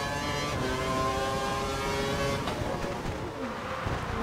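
Formula 1 car engine in the F1 2012 racing game during qualifying in China, a steady loud drone with harmonic whine held close and continuous throughout.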